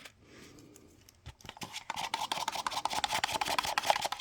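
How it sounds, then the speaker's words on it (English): Steady rhythmic scraping and rubbing of stirring inside a container, quiet at first, then louder and more regular after a couple of seconds, close by with no voices. "I'm stirring."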